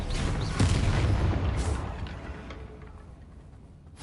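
A booming spell explosion from the Hogwarts Legacy video game bursts loudly at the start and rolls off into a fading rumble over a few seconds, with no speech.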